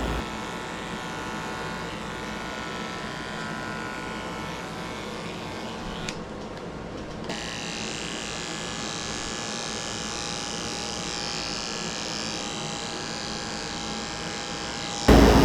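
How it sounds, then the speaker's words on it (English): Electric clippers shave a Shih Tzu dog's face and mouth during grooming, a steady close buzzing drone that runs almost the whole time, dips briefly in the middle and ends with a louder knock. "continued shaving his mouth"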